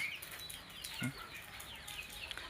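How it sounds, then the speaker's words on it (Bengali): Faint chicken clucks and chirps drift through a quiet poultry farm, distant and soft against a steady background hum. "মুরগি কিন্তু খালি এখানেই না, আর ওইদিকেও আছে মুরগি।"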